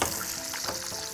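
Onions frying in a hot pan give off a steady close sizzle for a brief moment.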